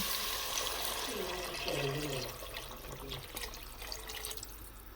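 Water runs and splashes steadily into a cooking pot over sautéed carrots, onion and garlic, a continuous liquid rush with faint clatter and some background murmur.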